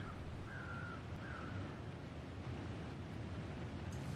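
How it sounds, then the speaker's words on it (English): Crows caw twice in the survival video game The Long Dark, faint and distant, heard over a steady outdoor wind and rushing ambience with no talking. "I hear more crows."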